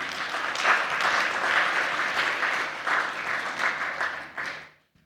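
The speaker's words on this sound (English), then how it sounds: "We can clap for Shem then" Audience applause at a conference report-back session, sustained clapping from a seated crowd that holds for several seconds and then cuts off abruptly.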